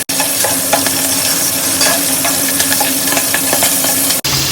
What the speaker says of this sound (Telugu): మిర్చి వేసుకొని కొంచెం అలా తిప్పుకుంటూ ఉండాలి